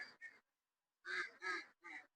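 Ducks at a newly set up duck farm beside a river, giving short nasal quacks: two quick calls, a pause, then three more in a row, faint and somewhat distant.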